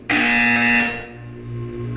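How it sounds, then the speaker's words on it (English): A loud electronic buzzer in Portal 2 blares once, a harsh sustained tone lasting about a second before fading into a lower hum. "When you hear the buzzer, look up at the ceiling."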